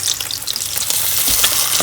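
Shami kebabs fry in a pan over medium heat with a steady, close sizzle and crackle, occasional spits and pops rising above the hiss, no voices.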